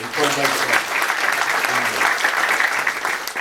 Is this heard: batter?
no